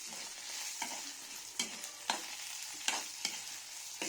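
Dry red chillies and cumin fry in a pan with a bright, continuous hiss, broken by several sharp scraping stirs of a spatula, close up with no voices.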